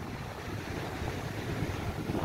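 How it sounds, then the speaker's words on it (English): Ocean surf on a wide beach at low tide rolls as a steady, distant roar, with gusts of wind buffeting the microphone throughout and no voices. "There's the ocean way down here."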